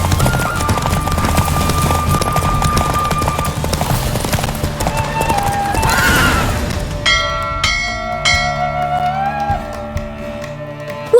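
A horse gallops in a race in The Witcher 3, with rapid clip-clop hoofbeats under loud game music and effects, then a bright ringing bell-like fanfare takes over near the end.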